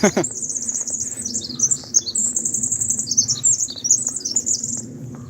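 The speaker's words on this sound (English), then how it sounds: "Boy, the birds are really out today." Several birds chirp and sing continuously in a forest at Tryon Creek Park, with bright overlapping calls at moderate distance over a low background rumble.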